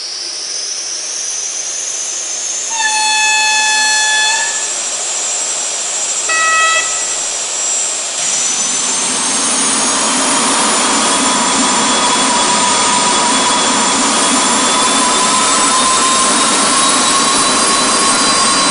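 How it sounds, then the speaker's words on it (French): A Fleischmann model Intercity trainset with gas-turbine sound in both power cars gives a loud, steady turbine whine. Tones rise and spool up early, then a dense, sustained roar holds to the end. "Le modèle Fleischmann est maintenant proposé, avec le son caractéristique des turbines à gaz dans les deux motrices"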